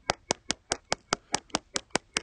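A heater gives off a steady series of sharp, evenly spaced clicks, about five per second, crisp and fairly close, with no talking.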